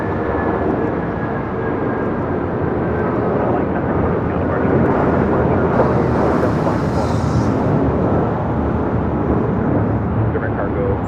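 A jet airliner at LAX thunders with a loud, sustained roar while the engines spool, holding steady throughout, with radio chatter and voices running underneath.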